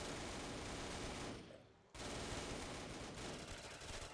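A Mark 2 heavy machine gun in Call of Duty Black Ops 3 fires a dense, continuous automatic burst, stops briefly for about half a second, then resumes a steady rapid stream of shots.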